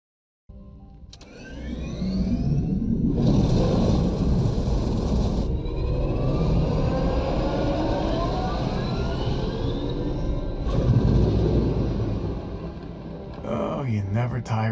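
A Gravcycle hover vehicle from the video game Disintegration runs loudly and steadily, a dense whooshing engine drone with rising and falling whine that swells and dips over about fourteen seconds.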